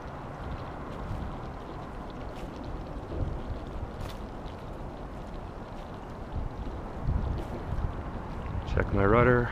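A UDI Xiphactinus 17-inch self-righting RC boat runs its motor at low throttle on open water, a steady whirring drone mixed with wind buffeting the microphone, growing slightly louder near the end.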